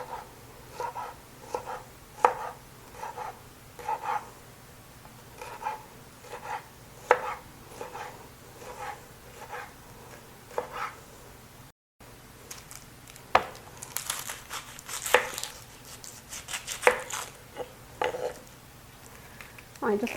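Green bell pepper being chopped with a knife on a cutting board, steady rhythmic thuds close up, then a faster, brighter run of cuts after a brief gap, with a voice talking faintly underneath.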